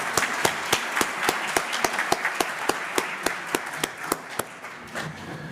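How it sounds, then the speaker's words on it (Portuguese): An audience at an evening awards ceremony applauds the award recipients, a wash of clapping with a strong, regular beat of rhythmic claps running through it before it thins out near the end. "Senhoras e senhores, para todos os agraciados nessa noite, uma forte salva de palmas"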